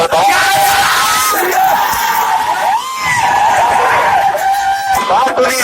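A dense crowd at the Chenab Textile Mill in Kathua shouts and yells continuously, a loud, unbroken roar of many overlapping voices with no pauses.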